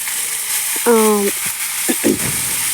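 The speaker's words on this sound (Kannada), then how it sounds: "ಜೀರಿಗೆ ಸಾಸಿವೆ ಕಡಲೆಬೇಳೆ ಇವೆಲ್ಲವನ್ನು ಹಾಕಿ ಒಂದೆರಡು ಮೆಣಸಿನ್ಕಾಯಿ ಆನಿಯನ್ನು ಇವೆಲ್ಲವನ್ನು ಹಾಕಿ" Cumin, mustard seeds, chana dal, green chillies and onion sizzle in hot oil for tempering, a steady close frying hiss with a brief tonal clink and a couple of stirring scrapes.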